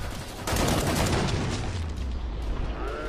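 An explosion bursts in the video game Killing Floor 2, followed by heavy rapid gunfire and booming impacts, loud and continuous as the blast's rumble trails on beneath the shots.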